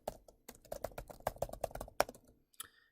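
Fingers tap out a title on a computer keyboard in a spreadsheet, a quick uneven burst of close, crisp keystrokes followed by a brief pause and a final press.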